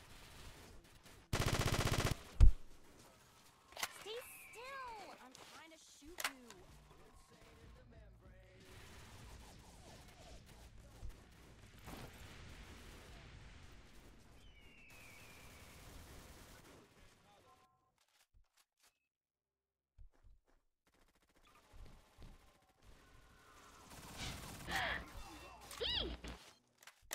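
Gunfire from a video game, a few bursts of shots scattered across the clip between stretches of quieter game sounds and pauses, with a player talking at times.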